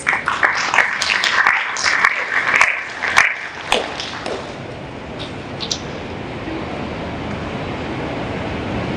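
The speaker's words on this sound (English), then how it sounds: "if you will clap and invite with me Dr. Elia Musasizi" An audience at an integrity awards evening claps for a keynote speaker, a loud burst of scattered hands over a couple of seconds that thins and fades into room noise.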